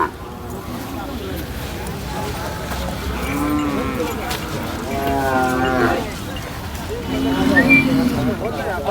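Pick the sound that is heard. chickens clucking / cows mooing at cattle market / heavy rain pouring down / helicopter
cows mooing at cattle market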